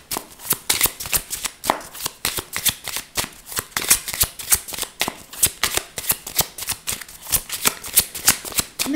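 A deck of tarot message cards is shuffled steadily and close up, giving a rapid, rhythmic run of crisp riffling snaps that continues without pause.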